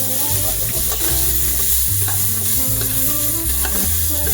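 Soaked red masoor lentils frying in a pan, with a steady sizzle and stirring and a low, uneven rumble under it for a few seconds.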